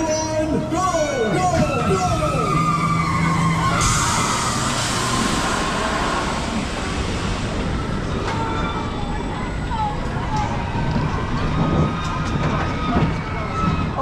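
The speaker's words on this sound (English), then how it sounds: "There's nothing like that launch on Stealth, and with hydraulic launches dying out, we got to enjoy it while we can." The Stealth hydraulic launch roller coaster roars and rattles along its track with rising and falling whines, joined by riders' shouts and screams throughout.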